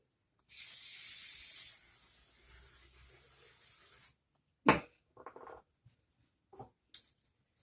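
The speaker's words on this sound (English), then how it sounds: "I go ahead and spray this first on my head" A strong hairspray aerosol bursts loudly for about a second, then keeps hissing more softly for a few seconds before stopping, followed by light handling clatter.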